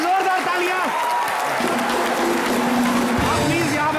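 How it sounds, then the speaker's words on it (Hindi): A studio audience at a comedy show applauds and cheers for Riteish, Shraddha and Sidharth, a loud continuous crowd roar with clapping, and voices along with music-like tones mixed in. "एक बार रितेश, श्रद्धा और सिद्धार्थ के लिए जोरदार तालियां"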